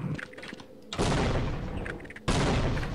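Grenade blasts in the video game Half-Life: Decay, two loud, sudden bursts of roaring noise about a second apart, each ringing out briefly after a quieter stretch of game sound.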